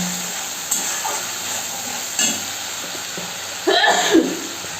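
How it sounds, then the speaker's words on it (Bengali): Cumin powder, salt and turmeric fry in a hot pan, giving a soft, steady sizzle with a few louder stirring scrapes and hisses near the end. "একসঙ্গে আমি সুন্দর করে মশলাটাকে কষিয়ে নেব।"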